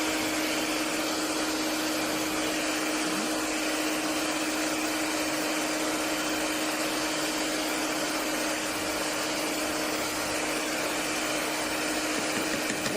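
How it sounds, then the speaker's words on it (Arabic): An electric mixer beats sugar and ghee, a continuous steady whirring hum running unbroken for the whole stretch, moderately loud and alone with no speech. "هضرب السكر والسمنه"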